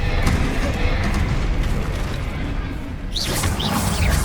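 The Bombarda blasting spell from the Hogwarts Legacy video game goes off as a loud, dense rumbling burst, followed by a sharp whooshing sweep near the end.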